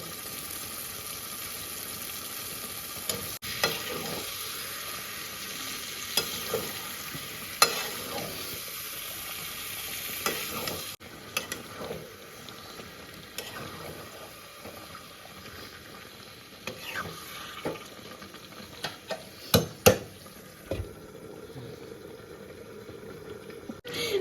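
Duck meat frying in a karahi with spices and garlic, a continuous close sizzle under repeated stirring scrapes and occasional clinks of the spatula, without talk.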